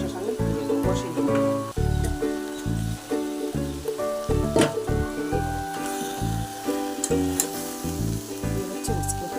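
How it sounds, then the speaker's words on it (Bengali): Potatoes sizzle and fry in hot oil in a home kitchen, a steady crackling hiss broken by stirring and clattering of a utensil against the pan, continuous and close. "রান্না চলছে, আলু তেলে দিয়ে বসাচ্ছি।"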